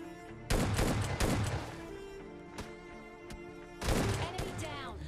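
Shotgun blasts ring out in the mobile battle royale game PUBG Mobile Lite, with a few sharp, loud reports in short bursts and quieter gaps between them.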